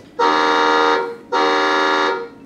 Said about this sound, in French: Le premier bouton qui se situe là est le klaxon.